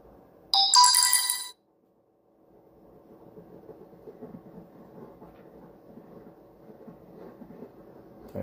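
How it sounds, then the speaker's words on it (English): A phone's message ringtone chimes once, bright and brief, near the start. A low, steady rumbling background follows. "Someone sent me a message over my phone."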